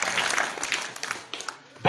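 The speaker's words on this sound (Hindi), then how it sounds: "अगर आप तालियां बजा दें तो बड़ी अच्छी बात है" Audience applause at a public gathering, a steady burst of clapping that fades gradually, with brief swells near the end.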